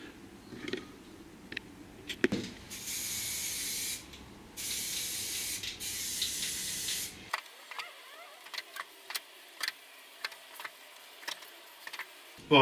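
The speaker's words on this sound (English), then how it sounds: "spray the floor up with a bit more red oxide where we've put this epoxy putty" Red oxide primer sprayed onto a van floor over epoxy putty patches, a steady loud hissing in several long bursts broken by short pauses, followed by faint clicks and taps.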